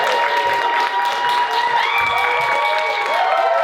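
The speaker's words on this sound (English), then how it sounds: "They clapped." An audience bursts into applause and cheering as Rachel Zegler is welcomed onto the stage, a dense, steady wash of clapping that stays loud and unbroken for a few seconds.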